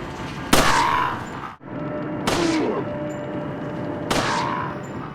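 Gunfire from the video game Resident Evil 4 rings out as three loud, spaced shots, each with a sharp crack and lingering echo over a steady background rumble.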